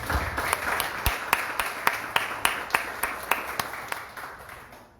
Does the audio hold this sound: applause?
yes